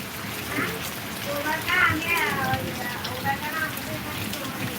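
Steady rain hisses and patters throughout while people talk over it.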